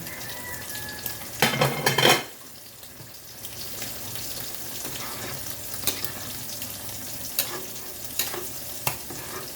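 Chicken in tomato is stirred in a pan to stop the bottom sticking, with a loud burst of spoon scraping and metal clatter followed by a softer, ongoing sizzle broken by occasional clinks and taps.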